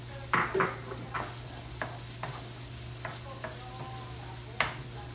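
Tomato, onion and chili fry in a pan for breakfast burritos, a soft low sizzle broken by a few scattered spatula scrapes and clicks, fairly quiet and without talk.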